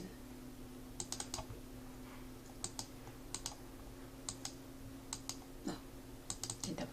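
Computer mouse clicks used while working in an Excel spreadsheet, sharp isolated clicks in small clusters and doubles spread over steady low room hum, fairly faint and close.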